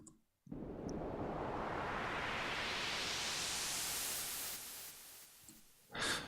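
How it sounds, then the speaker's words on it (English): A synthesized white noise sweep made in FL Studio, a hiss rising steadily in brightness for about four seconds alone, then cutting off before a short burst at the end. "real quick tutorial on white noise sweeps and how to make them"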